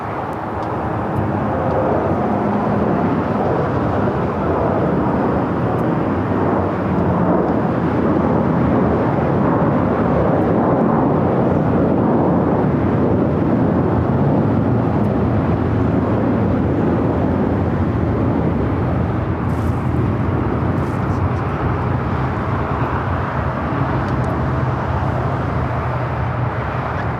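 An American Airlines Airbus A321 jet at Los Angeles International Airport gives off a steady, loud, broadband engine roar that holds for the whole stretch without a break.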